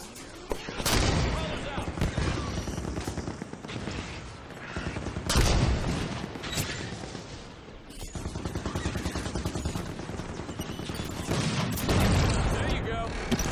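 Halo 5 Guardians gunfire crackles in rapid bursts, with heavy shots and booming impacts punching through a continuous battle din while a player talks over the action.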